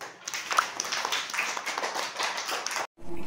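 Children clapping hands together in a classroom, a quick, busy patter of many small claps lasting under three seconds, ending abruptly.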